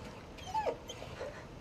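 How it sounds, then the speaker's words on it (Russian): A dog holding a boot lets out a couple of short, high whimpers and whines, close and fairly quiet over a soft background. "Собака с ботинком?"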